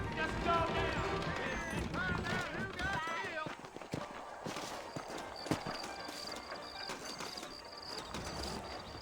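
Horse hooves clip-clop at a steady trot on a trail in the Red Dead Redemption video game, a faint rhythmic patter under game voices talking and ambient sounds.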